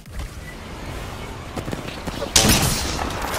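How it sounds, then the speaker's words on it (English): Gunfire in Apex Legends, scattered shots building to a loud burst near the end, heard close amid game effects with no talk. "Getting shot at."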